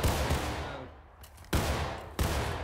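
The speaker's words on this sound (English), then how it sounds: "That cannon's gonna get us pinpointed." Two sudden, heavy booms of cannon fire in the video game War of Rights ring out in succession, each followed by a long rumbling decay, over a continuous low battle din.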